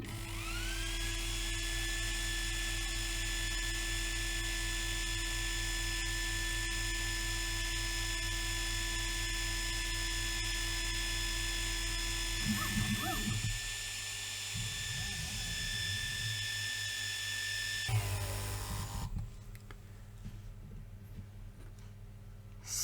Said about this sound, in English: So the air pump itself is also really powerful.